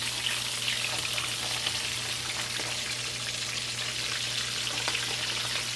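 Salt fish frying skin-side down in coconut oil in a pan gives a steady, fine crackling sizzle with scattered pops, with a low hum running beneath and no voices.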